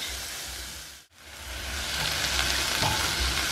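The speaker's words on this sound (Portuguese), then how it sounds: "Agora que a linguiça, o alho e a cebola já refogaram, eu venho com o pimentão e o tomate." Bell pepper and tomato hit a pan of frying sausage, garlic and onion, a loud, close sizzle that briefly drops out and then swells into a steady crackling fry.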